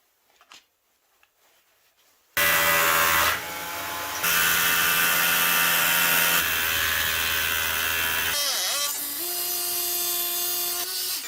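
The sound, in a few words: power drill drilling holes for Tapcon screws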